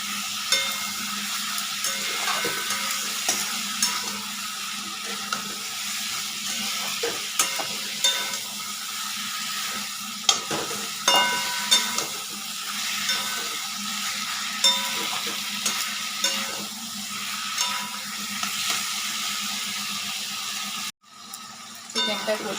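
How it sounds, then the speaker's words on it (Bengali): Spiced chicken stirred and fried in a pan for a Bengali yogurt chicken curry, a steady close sizzle with repeated scraping stir strokes throughout, no talking. "চিকেনটা কষিয়ে নিচ্ছি।"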